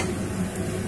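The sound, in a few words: chopped garlic sizzling and being stirred in a pan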